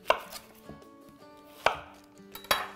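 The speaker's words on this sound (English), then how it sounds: "This is a really big onion, so we're gonna just cut this guy down." A kitchen knife chops down through a very large onion on a cutting board in three distinct, sharp thunks spaced about a second apart, close and clear with faint rustling between cuts.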